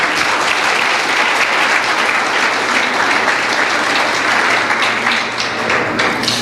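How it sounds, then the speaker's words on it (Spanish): A church congregation applauds in a steady, dense wash of clapping that stays loud and continuous throughout, with no speech over it. "Le damos un aplauso al Rey."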